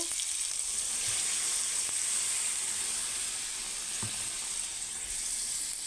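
Chicken and potato curry in a pan gives off a steady, even hiss and sizzle, with a couple of faint knocks and no voices.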